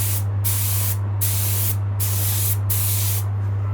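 A spray gun hisses orange paint onto a wooden guitar in four short, rhythmic bursts with brief gaps between, over a steady low mechanical hum.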